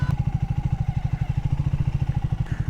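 A new Triumph Thruxton 400 cafe racer motorcycle rides along, its engine thumping in a steady, rapid pulsing beat, close and fairly loud throughout with no talk.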